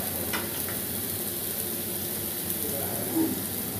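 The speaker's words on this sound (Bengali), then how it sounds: "প্রথমে দেখুন আমি আলুগুলো একটু ফ্রাই করে নিচ্ছি।" Potatoes fry in a pan with a steady, even sizzle that holds throughout, close and moderately loud, with no one talking.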